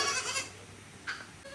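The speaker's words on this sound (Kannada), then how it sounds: "ನೋಡಿ ಏಡು, ಮೇಕೆ," A goat on a coastal Karnataka village farm gives a single short, fairly close bleat partway through, amid quiet outdoor background noise.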